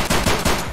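Rapid pistol shots fired in the video game Escape from Tarkov on the Interchange map, three or four loud, close bursts in quick succession with no talking.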